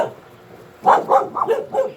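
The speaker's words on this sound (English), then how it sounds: "Dogs." Dogs bark in a short, close burst of four or five sharp woofs after a quiet lead-in, clear and loud with no talking over them.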